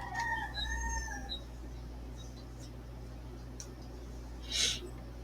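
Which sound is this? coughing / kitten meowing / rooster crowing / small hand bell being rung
rooster crowing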